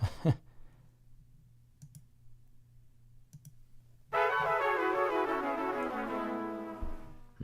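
A computer mouse clicks through samples in Ableton Live: a few faint, sparse clicks in near silence, then a loud sustained tonal sample starts playing and runs to the end.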